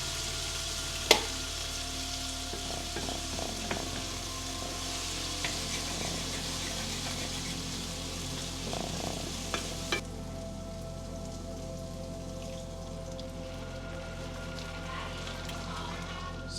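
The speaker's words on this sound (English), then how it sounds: "I'm going to scrape all those good bits off the bottom" Stroganoff sauce sizzles and bubbles in a hot pan while a utensil scrapes browned bits off the bottom, a steady soft crackle with a few scattered knocks and scrapes, heat dropping toward the end, no voices.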